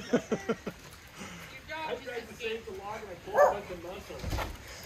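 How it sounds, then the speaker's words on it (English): Border collie Pomeranian mix dog giving a few quick sharp barks at the start, then a person talks with the dog yipping faintly under the voice. "That's a terrifying bark you've got there."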